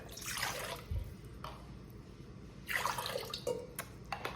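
Warm water poured for homemade pizza dough, two short close trickling pours with a soft knock between them in a quiet kitchen.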